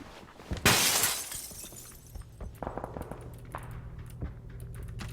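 A PUBG player's helmet shatters from a hit in a single bright, glassy crash, followed by scattered small cracks and game sounds fading under a low hum.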